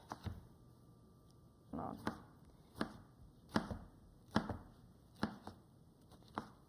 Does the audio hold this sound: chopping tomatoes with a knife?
yes